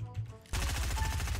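Rapid automatic gunfire in a Fortnite-style shooter game, a dense burst of shots that starts abruptly midway and continues steadily and loud, after a quieter stretch of game ambience.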